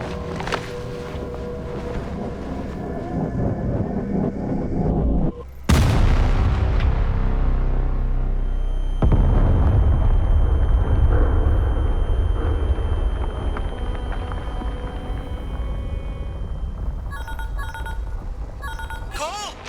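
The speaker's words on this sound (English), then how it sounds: "The explosion!" A loud explosion in the Chernobylite 2 video game erupts as a sudden broadband blast and leaves a long rumbling roar. Dramatic game sounds and character voices come before and after it, with electronic chirps near the end.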